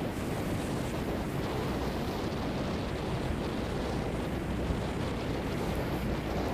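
Strong wind and waves pound a heavily loaded fishing boat at sea off Khánh Hòa, making a loud, steady roar of wind and surf with no break and no talk.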